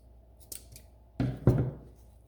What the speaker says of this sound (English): I'm going to cut these on an angle. I'm just going to trim them like that.